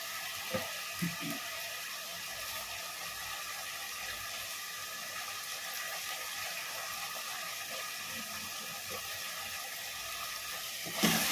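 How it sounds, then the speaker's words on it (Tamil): Soft steady sizzle of a single chopped tomato frying in a pan for a kingfish curry, a constant crackling hiss with a few faint clunks and no talking. "இப்போது இந்த தக்காளி கட் பண்ணி வச்சுருக்கேன் இல்லையா, ஒரே ஒரு தக்காளி வதக்கிறதுக்காக வேண்டி அதை நான் போட்டேன்."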